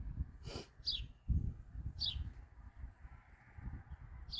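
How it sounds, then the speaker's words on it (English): Short high chirps repeat a few times at a distance, faint over low outdoor rumble and rustling. "Oh, it's that sparrow."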